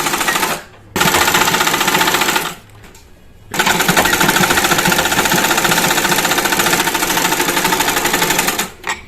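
A sewing machine stitches the crotch seam of palazzo pants in loud, rapid, rattling bursts, stopping twice briefly for short pauses before running on again close up, with no talking.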